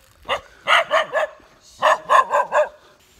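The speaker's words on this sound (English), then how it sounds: "I can't really hear you because of the dog." A dog at a pool house in Lombok, Indonesia, barks loudly and close by in two sharp bursts, three barks and then four in quick succession, with brief quiet between.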